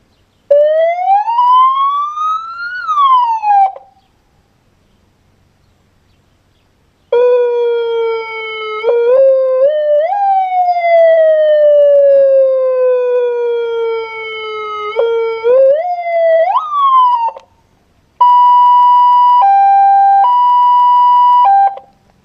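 A loud electronic siren horn mounted on a Volkswagen Jetta cycles through several tones: a rising wail, a long falling yelp, then a steady two-tone alternating blare, each burst separated by brief silence.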